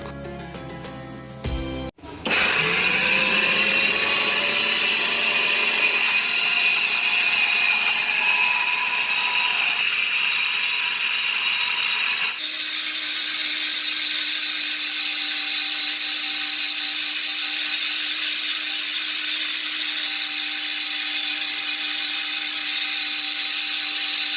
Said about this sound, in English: Now grind it, these leaves and green mirchi.